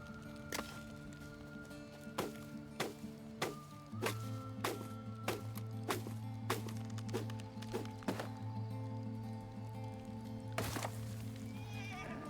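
Clip-clop of a horse's hooves in a video game, a run of crisp, evenly spaced hoofbeats over a steady musical backdrop, with a brief burst of noise near the end.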